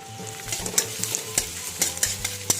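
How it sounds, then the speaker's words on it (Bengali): Garlic and ginger are stir-fried in oil, a brisk sizzle punctuated by quick rhythmic spatula clacks against the pan, up close, with a low hum underneath and no speech. "হালকা খুব অল্প একটু নেড়ে নিব কিছুক্ষণ, হালকা করে ভেজে নিয়ে"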